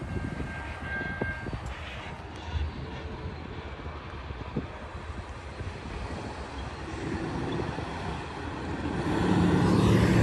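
A freight train with a DPU locomotive, an SD70M2, rolls past outdoors as a steady, continuous rumble of rail cars with some wind noise, growing louder toward the end.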